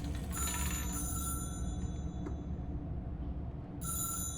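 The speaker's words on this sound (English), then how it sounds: "Phone call?" A telephone rings in the video game Control, electronic bell-like trills in two bursts separated by a pause, moderately loud and unaccompanied by speech.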